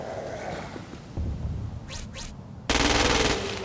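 Bursts of automatic gunfire from a weapon in Crackdown 2, fired at a freak on Xbox 360; a loud rapid volley kicks in near the end after quieter game ambience and a couple of whooshing effects.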